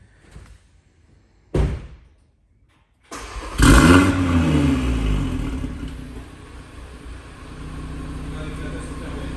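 A car with a full exhaust line fires up after a couple of door or key clunks, the engine catching with a loud burst and then settling into a steady, rumbling idle close by.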